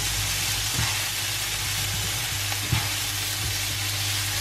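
Onions fry on a powerful stovetop, giving a steady, dense sizzle with a few soft knocks from stirring.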